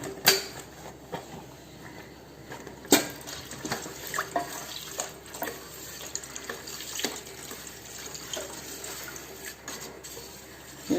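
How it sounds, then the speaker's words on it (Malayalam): Second-extract coconut milk poured into a pot of pazham pradhaman makes a continuous liquid splash and trickle, close and fairly steady, with a few louder knocks and spatters along the way. "2-ാം പാല് ഒഴിക്കാം"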